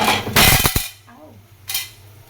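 A metal lid is set onto a cooking pot in a home kitchen, giving a loud clattering clank of metal followed by a quieter second rattle.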